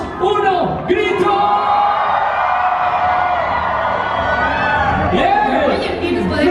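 A crowd at a Mexico film premiere shouts and cheers together loudly on a countdown, voices rising in a sustained roar before tapering off.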